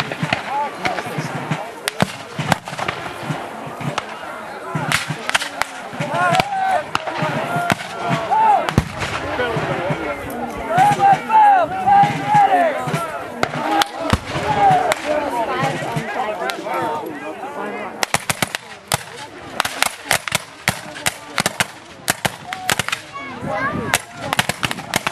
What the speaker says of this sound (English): now the Confederate artillery over in Columbus, Kentucky is able to start targeting and firing as well